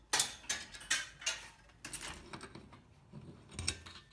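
Metal clinks and rattles as a pulley and cable come off a stretched garage door extension spring, a few close, faint clanks and scrapes.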